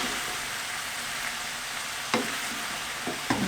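Mushrooms frying in a pan give a steady, dense sizzle, with a few brief scraping knocks as they are stirred; no one speaks.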